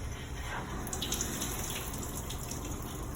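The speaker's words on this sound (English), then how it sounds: "And now we want to rinse it out." Hot tap water runs steadily into a sink, rinsing a removed auto scrubber part in a constant, even wash of splashing flow.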